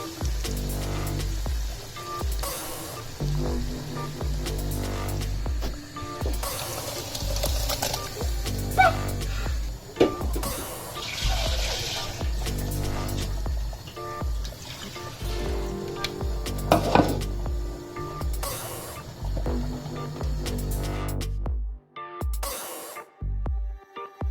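Hot spiced tadka is poured into Punjabi maah rajma dal, giving a long, loud spattering sizzle with irregular bursts and crackles that keeps going for many seconds before thinning into scattered pops near the end.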